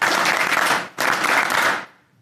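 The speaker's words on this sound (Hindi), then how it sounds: "एक बार ताली बजाओ सब" Audience clapping in two loud, dense bursts with a brief gap near the middle, ending abruptly. No voices over it.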